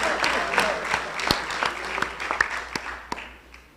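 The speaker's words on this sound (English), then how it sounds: "Another big round of applause for fantasy designers." Audience applause at a town council awards ceremony, a dense, moderately loud clatter of many hands that fills the whole stretch with scattered sharper claps, with a faint murmur of voices beneath it.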